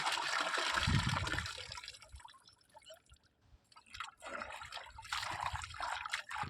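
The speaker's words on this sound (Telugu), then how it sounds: "చేపను బాగా మనం వేసిన ఉప్పు అనేది కరిగిన దాకా కడగాలి" Water splashes and trickles while fish pieces are rinsed by hand in a bowl to wash off dissolved salt, with bursts of sloshing and swishing separated by a quieter lull, close and moderately soft.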